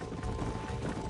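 Horse hooves pound in a steady galloping clip-clop during a chase in the video game Red Dead Redemption, loud and continuous with busy rumbling ambience and no talk.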